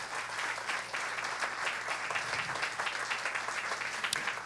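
A church congregation bursts into steady, loud applause, dense clapping filling the room from start to finish with a faint low hum underneath.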